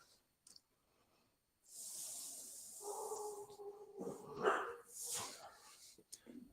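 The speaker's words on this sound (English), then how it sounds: "my dog is raising Cain about something" A dog barks indoors in a few muffled, somewhat distant bursts over a background hiss, after a short quiet stretch.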